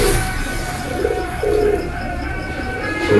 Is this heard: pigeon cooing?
yes